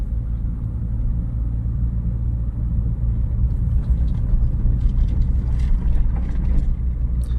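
A car rolls slowly in second gear at about 20 km/h along narrow lanes, giving a steady low engine and road rumble close by, with faint clicks and knocks from inside the cabin.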